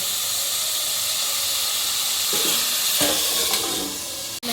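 Peas and french beans sauté in a hot pan with a steady, loud sizzle and hiss, stirred now and then with soft scraping and a brief clatter near the end.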